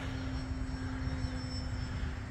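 E-flite Valiant RC model airplane flying overhead, a steady continuous motor and propeller drone with a constant whine, holding even loudness throughout with wind noise and no talk.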